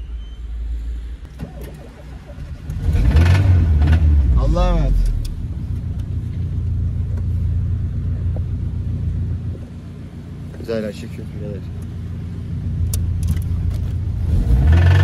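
A Tofaş car engine rumbles steadily after being started, a loud low drone with surges of revving, while people talk over it throughout.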